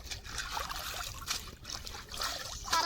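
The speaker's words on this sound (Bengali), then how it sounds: "এবার আমি শাকটা পুকুরে ধুয়ে নেব" Red amaranth greens are swished and rinsed in a pond, making soft, close trickling and splashing water in uneven surges, with no talk over it.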